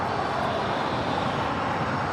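A jet airplane engine at LAX airport, a loud, broad, steady roar that fills the whole short stretch without any change, with no voices over it.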